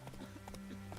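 The horse Roach galloping in The Witcher 3, quick rhythmic hoof clip-clops over a steady low background, faint and brief, with a voice speaking over them.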